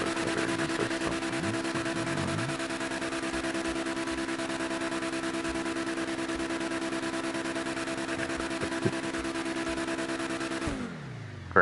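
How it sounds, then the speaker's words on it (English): A car engine in Grand Theft Auto Online holds a steady, loud mid-pitched revving drone for about eleven seconds, then drops off abruptly at the end. "We got engine sound, so good."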